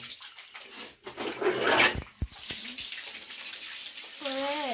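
Tap water runs steadily for washing, a continuous splashing hiss that swells and dips. Voices speak briefly over it near the end.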